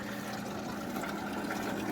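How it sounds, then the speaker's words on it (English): A swamp cooler's water pump runs with a soft, continuous watery hum and trickle, faint and steady with no pauses or voices. "pump is working"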